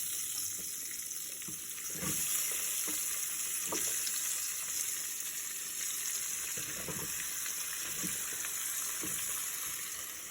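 Vegetable pieces tipped into hot tempering oil for a mixed-vegetable sambar, with a steady, close sizzle and crackle throughout and a few scraping stirs.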